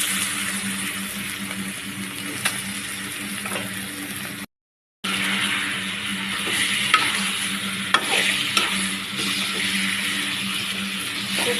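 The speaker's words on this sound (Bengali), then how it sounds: "এই গরম তেলের ভিতরে দিয়ে দিব মাখানো মাছগুলো।" Spice-marinated fish fries in hot mustard oil, giving a steady, close sizzle with occasional crackles and stirring scrapes, interrupted by one brief silent gap before the frying continues.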